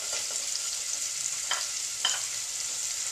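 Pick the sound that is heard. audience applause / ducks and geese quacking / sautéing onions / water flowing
sautéing onions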